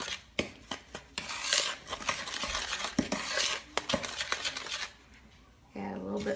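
A mixture stirred in a bowl with a utensil, a run of close clinks and scrapes against the bowl that stops near the end, then picks up again briefly with a voice heard.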